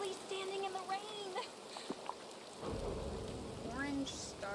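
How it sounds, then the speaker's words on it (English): Rain pours in a video game with thunder rumbling low midway, a dense close hiss of falling water while a voice talks over the top. "Look, rain! I'm actually standing in the rain!"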